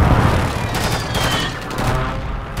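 Close air support strike in Call of Duty MW3, Afghan mission: dense rolling gunfire and explosive booms, loud and continuous with no talk.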